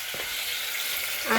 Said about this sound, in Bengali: আর এখানে আমি লাল শাক ভাজি করছি